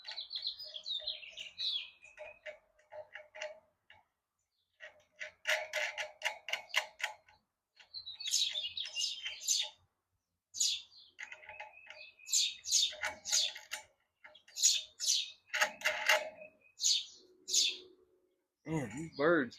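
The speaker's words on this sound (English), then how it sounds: "Man, these birds under this carport are about to tear me up because they got babies in the nest." Baby birds in a nest under a carport chirp in short, repeated bursts of high, fast peeping, fairly close and separated by brief pauses, with a sharp click near the end.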